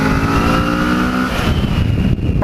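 A Kawasaki Z650 motorcycle engine revving up and easing off, a loud close growl that rises and then drops, heard alone.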